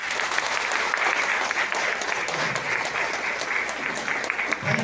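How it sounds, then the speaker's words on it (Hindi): An audience at a product program in Rajnagar breaks into loud, sustained applause, with dense clapping filling the hall for several seconds. "मेरी माँ बाप मेरे पर जोरदार तालियां दो"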